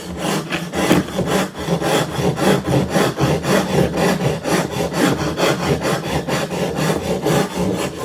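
A double cut rasp files dry plaster sculpture in steady back-and-forth strokes, about two per second, each a coarse, gritty scrape that is close and loud, continuing rhythmically with no voices.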